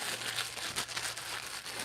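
A piece of cut-up plastic bag is crinkled and handled at close range over a canvas during spray-paint art, giving a soft, continuous rustling hiss for a couple of seconds.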